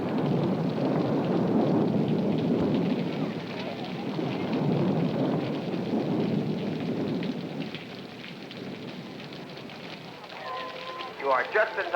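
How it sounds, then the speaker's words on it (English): Rain drums on a circus tent, a broad continuous patter that is heavier at first and then eases, with brief sharper sounds near the end. "Rain is what a tent show dreads most."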